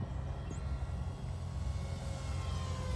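An RC micro bush plane on a 4S battery flies at full power in a backyard, its steady buzzing motor drone holding close and fairly loud the whole time with no talk over it.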